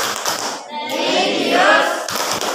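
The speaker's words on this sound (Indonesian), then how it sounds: "kasih tepuk tangan dulu untuk kelompok 2" A classroom group claps for the second team's presentation, a short burst of mixed hand clapping that swells and fades over a couple of seconds, fairly close and without speech.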